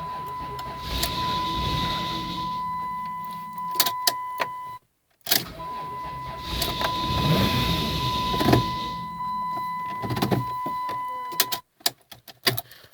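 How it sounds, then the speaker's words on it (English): A 1996 Dodge Grand Caravan with the 3.3 V6 cranks on its starter in two long bursts, each with a whirring, chugging starter drone, separated by a brief silence and a few clicks. "I just love that old Dodge crank sound."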